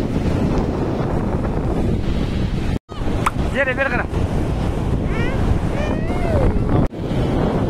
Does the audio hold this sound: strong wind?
yes